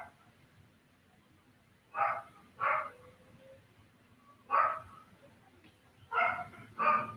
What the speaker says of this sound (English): It's Michael, my dog.